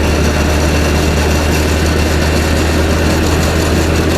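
A John Deere 1025R compact tractor in four-wheel drive and low gear drives a Farm King 600 snow blower through thick snow, a loud, steady, close engine drone with heavy low rumble and constant churning noise.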